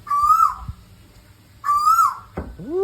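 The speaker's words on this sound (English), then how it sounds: "That's a loud bird." Two loud, close bird calls, each a sustained whistled hoot about half a second long and separated by a pause, with a shorter rising call at the end, heard at a camping ground along the Thai coast.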